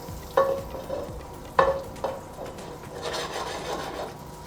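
Olive oil heats in a frying pan with a faint, steady sizzle, punctuated by a few sharp clicks and scrapes of a utensil against the pan.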